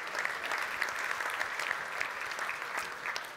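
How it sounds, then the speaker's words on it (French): An audience claps through the whole stretch at a fleet managers gala, a dense, steady and fairly loud sound with no break. "Donc, vous pouvez vous applaudir et merci."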